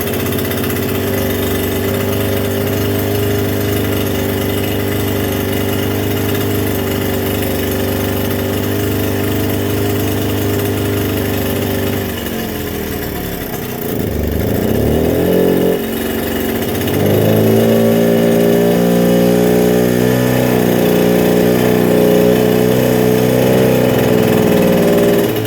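A 1979 Suzuki JR50 minibike engine idles in a cold shop with a steady, buzzy two-stroke drone, briefly dipping and wavering before settling into a slightly higher, steady hum.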